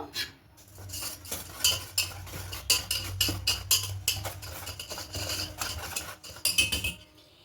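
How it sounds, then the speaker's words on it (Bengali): Dry sugar and salt being stirred together in a bowl for malai bora, a steady scraping and clinking of spoon against the dish at close range with no voices. "এবার শুকনো উপকরণগুলো একটু মিশিয়ে নেব"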